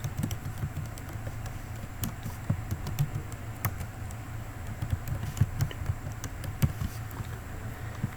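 Keys on a computer keyboard are tapped in short irregular bursts, soft clicks with occasional louder strikes, close and fairly quiet over a low background hum.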